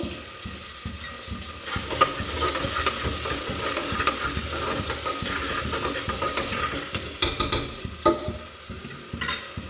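Onions and tomatoes frying in a pan, a steady sizzle broken by repeated scraping stirs and clinks of the spatula against metal, with no talk.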